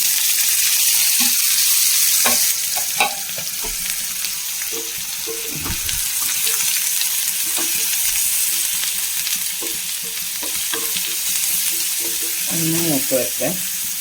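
Steady hissing sizzle of onion frying in a hot pan, with occasional clinks and scrapes of stirring throughout.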